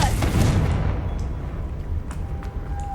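A Confringo fire spell blasts in Hogwarts Legacy, a loud booming burst at the start that rumbles and decays into a low roar with a few faint crackles trailing behind.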